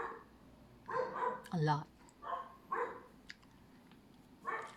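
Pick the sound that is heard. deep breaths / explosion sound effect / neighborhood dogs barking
neighborhood dogs barking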